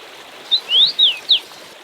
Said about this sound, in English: the sounds of the river and the call of the common rosefinch